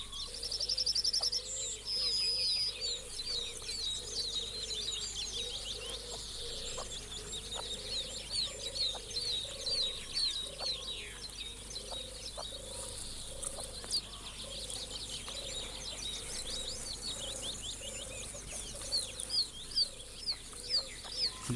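A partridge pair with newly hatched chicks in Britain, the cockbird crouched beside the hen, giving soft repeated clucks and chirps with high thin chick peeps over steady ambient noise.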